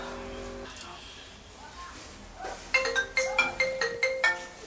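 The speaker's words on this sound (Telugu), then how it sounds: "ఈ సమయంలో ఫోన్ చేసేది ఎవరబ్బా?" A phone ringtone plays in short, loud, evenly spaced electronic bursts in the second half, after a quieter stretch with faint voices.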